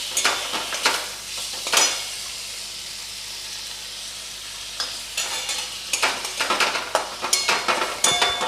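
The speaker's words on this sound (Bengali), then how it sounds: "এবার এটাকে একটু জল দিয়ে কষাবো।" Potato and paneer curry with ground coriander being sautéed in a pan with a little water: repeated scraping stir strokes over a soft sizzle, coming in bursts with a quieter pause in the middle.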